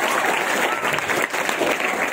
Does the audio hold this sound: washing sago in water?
no